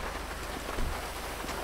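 Steady, dense rain hisses down in the GTA 5 game world during a police patrol, a continuous even wash of drops with no talk over it.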